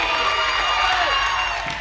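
Crowd at a girls' varsity high school basketball game cheers and whoops after a defensive stop runs out the shot clock, a steady loud roar of voices in a gym lasting throughout.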